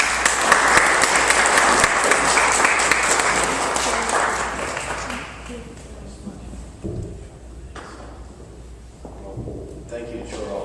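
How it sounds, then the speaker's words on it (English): Audience applause at a book signing, loud sustained clapping for about five seconds that then thins out, followed by quieter room noise and a few scattered sounds. "I would like you all to give a round of applause for my friend Charlie Turner"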